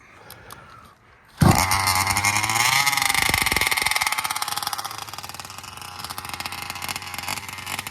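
A Meyer ported 32cc engine from a backyard bash vehicle fitted with 19/55 gears starts up after a faint tick and settles into a loud, steady buzzing idle as it warms up, close and continuous.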